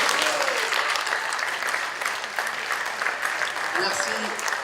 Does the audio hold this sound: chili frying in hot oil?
no